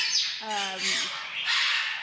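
Caged birds at an aviary sanctuary let out a few loud, harsh squawks close by, one with a short tonal call, over a noisy background.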